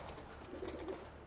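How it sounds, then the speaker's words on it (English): Pigeon cooing in the video game Marvel's Spider-Man Remastered, a soft, low warbling coo that swells in the second half over a steady game background. "Howard's pigeon."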